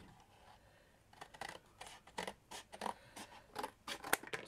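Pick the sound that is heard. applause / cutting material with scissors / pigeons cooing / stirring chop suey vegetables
cutting material with scissors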